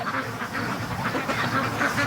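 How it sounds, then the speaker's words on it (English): Loud, continuous honking and quacking from a group of free-range geese and ducks nearby in a yard, overlapping calls with no break. "I hear a goose behind me."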